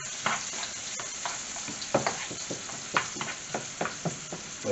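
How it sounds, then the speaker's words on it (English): Salmon and garlic spinach sizzle steadily in a hot pan while a utensil stirs them, giving a run of scraping strokes over the constant frying hiss, close and moderately loud, with no talking. "Give that a little stir and let it spread out."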